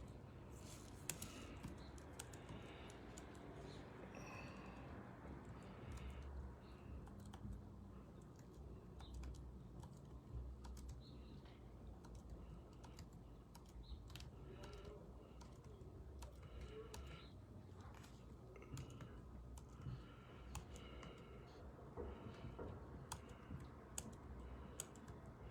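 Typing on a computer keyboard with a French layout, a steady run of quick light key clicks with low background noise and no clear talk.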